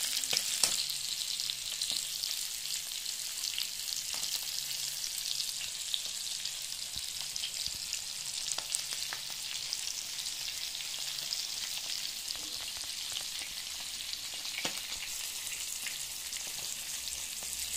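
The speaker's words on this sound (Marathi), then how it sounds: "मीडियम फ्लेमवरती मासे जळत पण नाही आणि कडक पण खूप बनतात।" Bangda mackerel fries in a pan over a medium flame, a steady even sizzle with faint scattered crackles and occasional light taps, continuous and close without speech.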